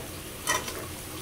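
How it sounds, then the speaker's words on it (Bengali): Onions fry in hot oil as cinnamon and cardamom go in, producing a faint, steady sizzle with one brief louder crackle partway through. "এখানে দারচিনি এলাচ দিয়ে দিব।"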